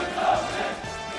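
Loud massed crowd of security ministry personnel shouting loyal cheers at a ceremonial gathering, a dense roaring chorus heard briefly and continuously.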